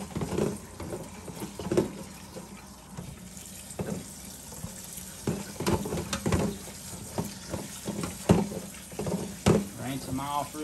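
Tap water running into a sink while green beans for pickling are washed, a continuous splashing wash broken by repeated clunks and sloshes as the beans are handled, close by, with some talk mixed in.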